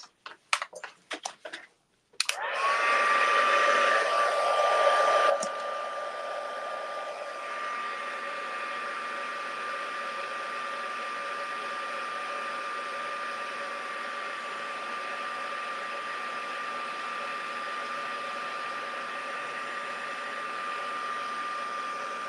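Heat embossing tool blowing hot air over a card, preceded by a few clicks and handling taps, then a steady loud whirring blast with a fan whine that eases slightly and holds for a long stretch.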